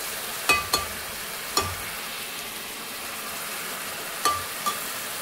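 A paste of garlic, onion and green chili fries for a raw banana curry, giving a low, steady sizzle marked by several sharp spoon clinks and scrapes against the pan.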